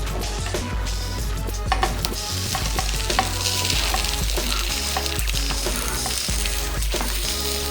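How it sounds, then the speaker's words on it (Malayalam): Tilapia sizzles steadily on a hot dosa griddle as it is pan-grilled for traditional meen pollikkam, a continuous close frying hiss with scattered small pops and taps, no voices. "അതേ ദോശക്കല്ലിൽ തന്നെ വെച്ചിട്ട് അപ്പുറം ഇപ്പുറം നല്ലപോലെ പൊള്ളിച്ചെടുക്കാം"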